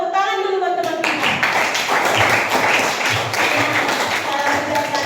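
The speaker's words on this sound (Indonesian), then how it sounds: "Tepuk tangan dulu buat teman kita." Classmates clap for a fellow student in what sounds like a classroom, a burst of quick hand claps running throughout while a voice talks over it.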